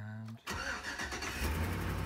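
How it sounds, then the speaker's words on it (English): A GMT800 truck's LS V8 engine cranks and catches, then settles into a deep, steady idle rumble close by. "start our beautiful, well-maintained LS engine."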